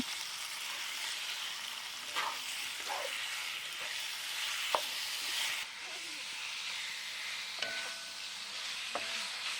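Beef sizzling as it is stir-fried in a hot pan, a continuous loud hiss and crackle with steamy spitting, broken by a few sharp clinks and scrapes of the spatula as the meat is tossed.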